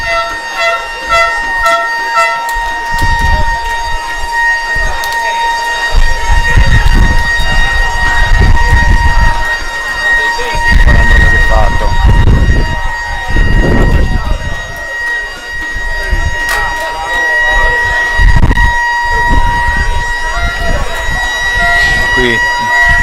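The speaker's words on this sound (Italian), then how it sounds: "Qui la tifoseria ha messo una bella sirena" Football fans at an amateur match sound a siren, a loud steady wailing tone that holds over the crowd noise and outdoor rumble for most of the stretch, with brief breaks.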